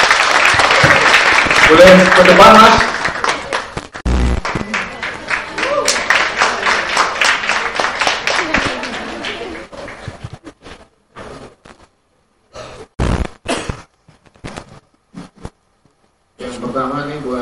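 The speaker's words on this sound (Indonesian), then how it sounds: "Oke, tepuk tangan." Brief audience applause at a smartphone photography talk, a dense burst of clapping that fades within seconds, followed by a voice speaking and scattered sounds with gaps of near silence.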